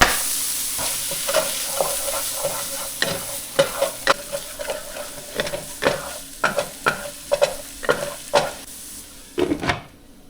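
Onions and peppers sizzle steadily in a pan over a fire for breakfast burritos, with repeated scraping stirs and utensil clacks at an irregular rhythm, fairly close and unaccompanied by talk.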